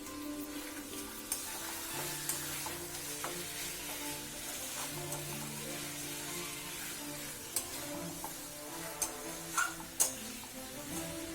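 Chicken kosha in a Bengali kitchen sizzles steadily in a pan while a spatula stirs it, giving a constant close frying hiss with a scattering of scraping clicks and taps that grow more frequent toward the end.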